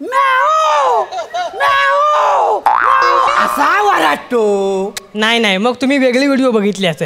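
On a Marathi comedy stage, a man imitates a peacock's call with his voice, giving a string of loud, wavering, swooping wails. Other performers talk in between the calls.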